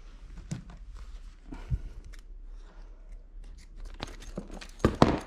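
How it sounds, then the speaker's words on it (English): Scissors snip through sturdy plastic baby-pod packaging in a few sharp, close cuts, separated by crinkling and handling noises of the wrapper. "So let's take off the little bit here with some scissors."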